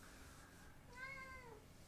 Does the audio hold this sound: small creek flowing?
no